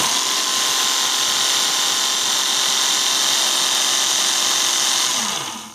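A Work Sharp Ken Onion knife sharpener runs a 6000 grit belt across a knife steel, a loud, steady motorised whir and hiss lasting several seconds before cutting off at the end.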